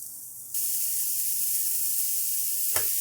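Mushrooms hit hot clarified butter in a pan, breaking into a sudden bright sizzle that holds steady and close, with a single soft knock near the end.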